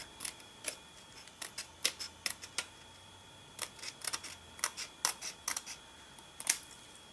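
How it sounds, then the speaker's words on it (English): Scissors snip through card paper in a series of close, crisp cuts, irregular clicks spaced across a quiet room with no talking. "Just get your scissors out and just cut that piece off."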